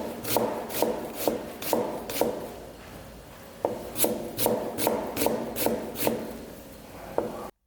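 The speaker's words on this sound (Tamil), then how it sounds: "ஆனியனை இந்த பொசிஷனில் வச்சுட்டு லைட்டாக நைஃபை கொஞ்சம் கிராஸாக வச்சு கட் பண்ண ஸ்டார்ட்" Knife slicing through an onion on a cutting board, sharp rhythmic chops landing in two bursts with a short pause between them, close and fairly loud with no talking.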